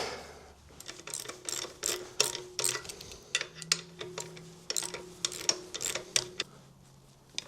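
Ratchet wrench tightening a bolt on an engine bracket of a Bobcat T590 with a Doosan D24NAP engine, a close, steady series of clicking strokes in bursts, with brief pauses between pulls and no talk.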